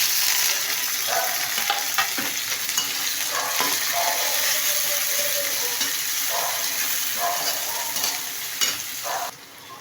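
Chopped tomatoes frying with onions in a pan, a steady loud sizzle with scraping stirring strokes of a spatula against the pan, close and continuous throughout, with no talking.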